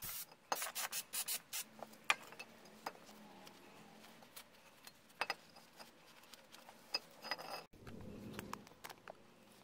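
Brake caliper bracket hardware on a 1994-2000 Honda Civic is scrubbed clean with repeated close, quiet rasping strokes, an irregular run of scraping rubs and small ticks.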